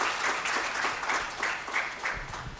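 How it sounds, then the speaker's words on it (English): A conference audience applauds as a speaker walks to the stage at a food systems event, with steady, dense clapping throughout. "A round of applause as he makes his way."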